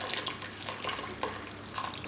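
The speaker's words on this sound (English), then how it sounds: "So I'm just covering the meat with water." Water splashes and trickles from a tap or jug into a cooking pot, covering lamb meat for a pilau stock; a steady close pouring sound with small splashy bursts throughout.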